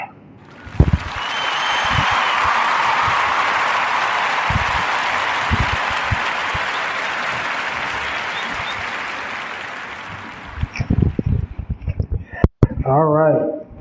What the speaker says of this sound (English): So we're gonna clap it up for Ashley.